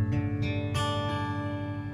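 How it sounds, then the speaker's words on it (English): Fingerpicked acoustic guitar plays the open G shape from a song, a few plucked notes landing in quick succession and then ringing together in a sustained, close chord. "it should sound like this if you play them open"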